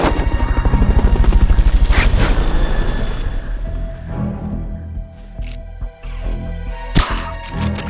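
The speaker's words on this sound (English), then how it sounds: "Fulton recovery helicopter is complete." A Fulton recovery helicopter in the Metal Gear Solid Peace Walker video game chops loudly with a rapid rotor pulse that fades after a few seconds, leaving scattered clicks and sharp effects.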